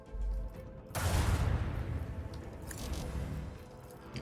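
A salvo of weapons fire in a Warhammer 40K space battle game erupts suddenly after a low thud, a dense loud barrage that rumbles on and slowly fades.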